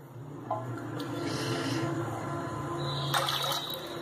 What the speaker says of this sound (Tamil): இப்ப நம்ம இதுல 3 கப் தண்ணி ஆட் பண்ணிட்டோம்